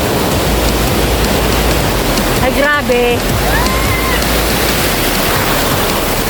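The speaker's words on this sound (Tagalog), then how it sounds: "Ang lakas ng alon." Strong ocean waves break and wash continuously at a beach on Lantau at night, a loud, dense roar filling the whole clip while a person exclaims briefly over it.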